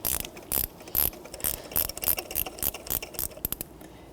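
A hand ratchet snugging a spark plug down on a 2014–2019 Toyota Corolla 1.8L, a close, quiet run of quick clicking strokes in a steady back-and-forth rhythm.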